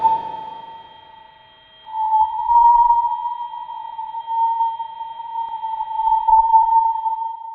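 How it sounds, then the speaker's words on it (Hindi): Sonified readings of shifting highly charged solar particles produce a steady electronic hum with a sonar-like tone that swells and wavers, preceded by a brief noisy burst and faint low rumbles. "ये तीसरी ऑडियो हाई चार्ज पार्टिकल्स में होने वाले बदलाव"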